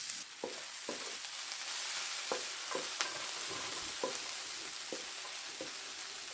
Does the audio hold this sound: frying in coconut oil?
yes